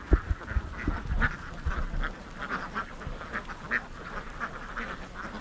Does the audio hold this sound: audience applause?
no